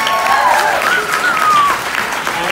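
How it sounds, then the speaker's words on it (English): An audience at a talk by Temple Grandin claps in a dense, steady round of applause that fills the room, with a voice briefly audible over it. "Let's have another round of applause for Tinsel Grandin."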